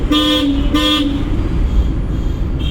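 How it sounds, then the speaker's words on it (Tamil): A car horn honks twice in quick succession, loud and close, over a low rumbling engine, during a driving lesson. "ஹார்ன் அடிக்கணும்."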